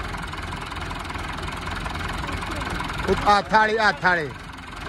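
A started vehicle engine idles steadily and continuously at close range, with a voice speaking briefly over it near the end.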